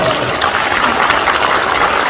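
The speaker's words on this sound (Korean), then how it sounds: "박수 한번 칠까요?" Party members at a political rally clapping steadily together, a dense, loud, even wash of applause filling the hall without pause.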